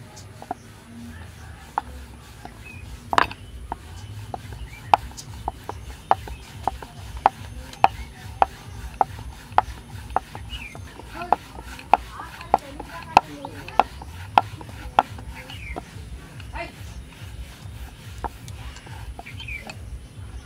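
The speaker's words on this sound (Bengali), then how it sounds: "এখান থেকে একটা লেচি নিয়ে এইভাবে শুকনো ময়দার মধ্যে দিয়ে এটা আমি বেলে নেব" A rolling pin works a small dough ball through dry flour for an egg chicken roll, producing a series of sharp, regular knocks and taps against the board over a low rumble, with faint whispery background sounds.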